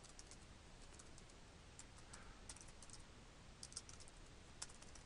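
Soft, steady typing on a computer keyboard, with light rapid keystrokes and a few louder taps over low background hiss, close and without voices.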